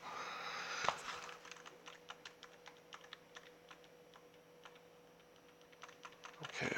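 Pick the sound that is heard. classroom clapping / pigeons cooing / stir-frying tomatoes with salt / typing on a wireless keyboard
typing on a wireless keyboard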